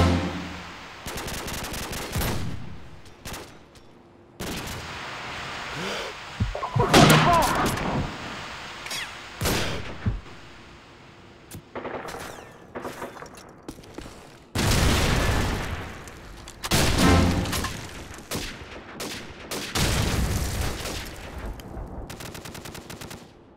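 Bursts of automatic rifle fire and single shots in a Search and Destroy round of a first-person shooter video game, loud and repeated in clusters across the whole stretch, with occasional shouted game voice lines.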